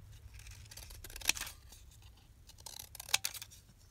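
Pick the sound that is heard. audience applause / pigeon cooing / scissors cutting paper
scissors cutting paper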